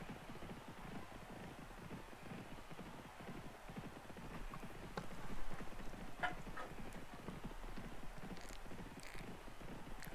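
Racehorses gallop in the Starters Orders 7 racing game, a dense continuous patter of hoofbeats spread evenly across the stretch, faint and steady with no voices.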